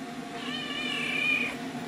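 A cat gives one drawn-out, rising and falling meow, close and fairly loud over a low indoor hum in a kitchen where breakfast is being made.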